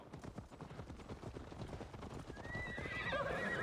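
Horses gallop in Assassin's Creed Valhalla, a rapid drumming of hooves, close and continuous, followed by shrill neighs and whinnies rising over the hoofbeats toward the end.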